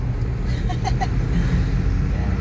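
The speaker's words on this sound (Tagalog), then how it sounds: "Tsaka gumanda yung tunog ng makina." Steady low engine rumble of a Mitsubishi Crosswind driving uphill with the air conditioning on, continuous and close, with a few faint high chirps briefly over it.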